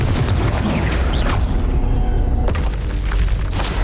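A Confringo fire spell in the game Hogwarts Legacy, a loud, dense booming blast that fills the whole stretch, with a second heavy burst near the middle and rumbling debris, no speech.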